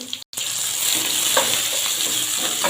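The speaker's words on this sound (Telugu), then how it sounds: "ఆనియన్ క్యారెట్ పచ్చిమిర్చి ఫ్రై అయినాయి" Onion, carrot and green chilli frying in oil in a pan give a steady, close hiss of sizzling with a brief cut near the start and no voices.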